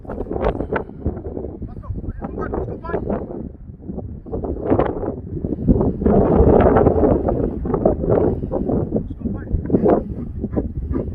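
Outdoor wind gusting into the microphone near a mine shaft, giving a rough, fluctuating rumble that swells midway, beneath ongoing talk.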